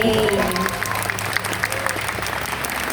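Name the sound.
audience applause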